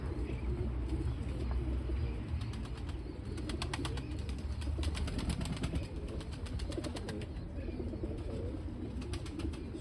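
Pigeons coo softly outdoors around their coops amid a dense, constant background of ambient noise, with faint chirps and rapid flutters scattered through.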